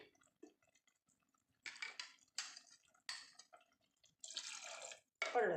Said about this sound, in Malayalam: ഈ മത്തി വേവാനുള്ള വെള്ളം നമുക്ക് ഒഴിച്ചു കൊടുക്കുക